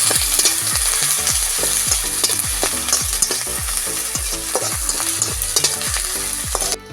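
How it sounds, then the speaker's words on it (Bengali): Chopped ginger fries in hot oil with a continuous crackling sizzle, while a spoon stirs in repeated scraping, clinking strokes against the pan at a brisk, uneven rhythm. "আদাটা একটু ভালো করে আমি ভেজে নেব।"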